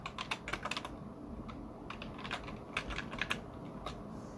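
Faint, close computer keyboard typing, a quick irregular run of key clicks as a password is entered, with no one talking.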